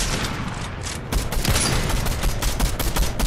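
Rapid gunfire in a video game shootout, a dense barrage of shots that thickens after a moment and rattles on steadily and loudly with no talk over it.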